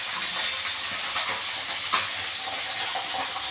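Hilsa and pomfret fish fry in a pan, giving a steady hissing sizzle with faint crackles and one brief clink, continuous and fairly close, with no talking.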